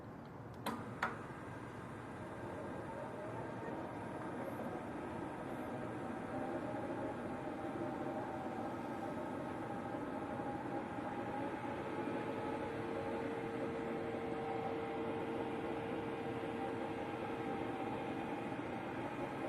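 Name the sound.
DTF printer powering on and running motion self-test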